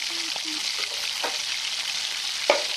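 Vegetables hit a hot pan of fried onion and ginger-garlic paste, giving a steady, close sizzle of frying with a few soft stirring knocks and one sharper clink near the end.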